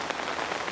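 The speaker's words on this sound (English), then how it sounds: "Oh dear, it is starting to rain." Cartoon rain begins falling on a family's little tent at a children's festival, a soft dense patter of drops that stays steady and close for a brief moment with no voices.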